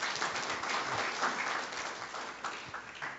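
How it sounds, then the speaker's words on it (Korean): Audience clapping at a national land policy forum, a brief, steady round of applause filling the room at moderate loudness with no voices over it. "다시 한번 박수를 부탁드리겠습니다"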